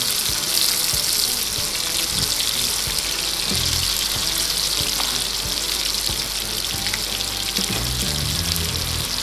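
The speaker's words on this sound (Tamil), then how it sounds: "எண்ணெய் காஞ்சிருக்கு மீன் வறுத்தா இப்படி தான் வறுக்கணும்" Fish fries in hot oil with a steady, dense crackling sizzle that stays loud and continuous throughout, with occasional faint clinks of a utensil.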